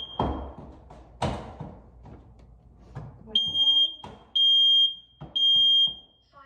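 A combined smoke and carbon monoxide detector is put through its test, giving three loud, piercing electronic beeps in a row after a few thumps and a brief synthetic voice.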